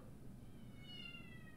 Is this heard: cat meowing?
yes